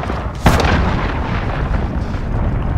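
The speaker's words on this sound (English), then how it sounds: "Enemy cruise missile incoming." A cruise missile explodes in Call of Duty: Modern Warfare multiplayer: one sharp, loud blast near the start, then a heavy rumbling roar that slowly fades over the rest of the moment, with no voices.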